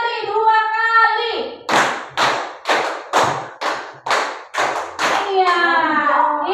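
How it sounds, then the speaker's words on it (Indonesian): Voices chant, then a group claps in a steady rhythm of about eight sharp claps before the chanting resumes. "Tepuk 2 kali, 2 kali."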